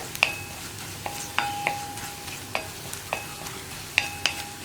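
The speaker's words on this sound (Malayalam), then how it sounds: "1/4 ടീസ്പൂൺ മഞ്ഞൾപ്പൊടിയുടെ ആ ഒരു റോ ടേസ്റ്റ് മാറി വരുന്നത് വരെ ഒന്ന് ഇളക്കി കൊടുക്കുക" A spoon scrapes and clinks in a pan while turmeric powder is stirred in hot oil for a yam masala curry, a soft steady sizzle beneath sharp intermittent metallic taps and scrapes, no talk.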